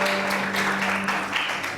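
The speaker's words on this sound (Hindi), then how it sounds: "बहुत सारी तालियां" A short burst of steady applause from a crowd, with a low hum underneath.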